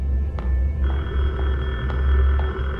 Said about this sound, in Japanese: 電話の音。